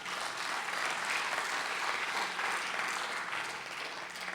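Audience applause at a live Shrimad Bhagavat Katha religious discourse in Raipur, Chhattisgarh: a dense, steady wash of many hands clapping at moderate distance, sustained without pause.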